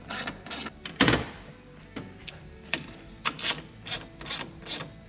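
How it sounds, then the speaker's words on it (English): A 10mm ratchet loosens bolts on a Ram 1500 front end, giving a series of short metallic clicks and ratcheting bursts in uneven clusters, close up with no talking. "We're going to loosen these bolts up."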